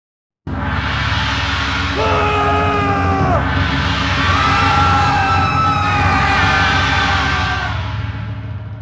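Loud yells and frightened cries from a crowd at a night sacrifice pyre, many voices shouting together in rising and falling waves over a steady roar, continuing loud throughout.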